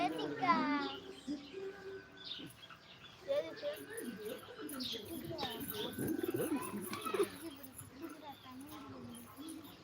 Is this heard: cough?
no